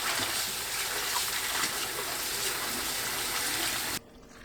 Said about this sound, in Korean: (1분) 후 바로 찬물에 2번 헹굽니다.